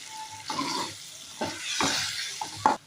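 Red chili powder hitting hot oil while cooking a brinjal curry, heard as several short bursts of sizzling and stirring scrapes spread over a few seconds, close and moderately loud.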